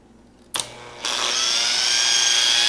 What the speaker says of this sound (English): You can hear it groaning because it's just getting started on the polishing process.